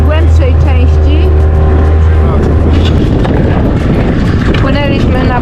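An outboard motor on a boat running aground in shallow water off the Bahamas: a loud, rough engine roar with a steady low hum that breaks into harsher, churning broadband noise partway through, under wind buffeting.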